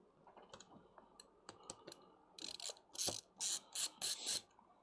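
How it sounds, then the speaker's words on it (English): Screws being backed out of a computer case, heard as quiet ratcheting clicks and ticks that build into several short, louder bursts of rapid clicking near the end. "Get all of these screws out."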